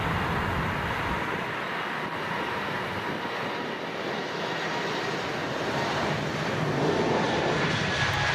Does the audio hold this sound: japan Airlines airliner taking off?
yes